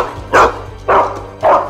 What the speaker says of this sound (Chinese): 狗叫声让坤哥有所警觉